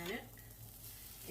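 Whole spices dry-roasting in a pan for Kerala varutharacha (fried coconut) sambar, with a soft steady sizzle and occasional stirring scrapes running through, close and fairly quiet, no talk.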